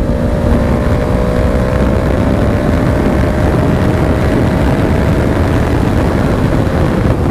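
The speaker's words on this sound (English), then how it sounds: "But I love how the engine braking is on this bike." A 2020 Honda CBR500R motorcycle with a slipper clutch engine-braking on the road, its steady, slowly falling engine drone largely buried under loud, continuous wind roar, with no talking.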